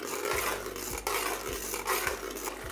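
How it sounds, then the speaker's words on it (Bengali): Wet onion paste sizzles and spatters in hot ghee in a large pot of mutton rezala, a steady loud frying hiss with periodic stirring scrapes and no voices. "যেহেতু পেঁয়াজের মধ্যে এখন জল আছে, দেখুন সেই জন্য এটা ছেটকাচ্ছে"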